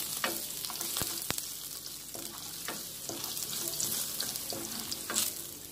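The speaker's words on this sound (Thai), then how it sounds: "เจียวกระเทียมให้หอมนะคะ" Garlic frying in hot oil in a wok for a stir-fried firm tofu dish, giving a steady dense sizzle with occasional clicks and scrapes from a stirring utensil.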